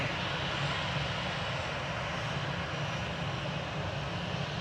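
Qatar airliner at Manchester Airport pushing back and taxiing out, its engines giving a steady, loud, broadband roar with no break, heard alone without voices.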